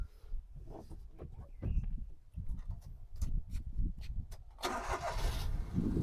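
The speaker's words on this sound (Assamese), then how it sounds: "ইঞ্জিনটো এবাৰ ষ্টাৰ্ট দি দেখাই দিওঁ আপোনালোকক" A 2018 Datsun GO T with a 1200cc engine cranks with a rapid stuttering starter rhythm, then catches and settles into a steady idle, close up, with no talking.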